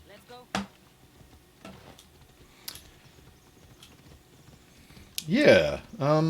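A horse gallops in Assassin's Creed Odyssey, its hoofbeats coming as scattered, fairly faint thuds beneath a voice, with a louder burst of sound near the end.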